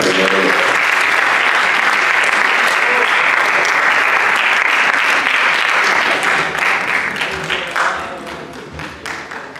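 Sustained audience applause at a university audiovisual research conference in Spain, dense steady clapping filling nearly the whole stretch, then thinning and tapering off near the end.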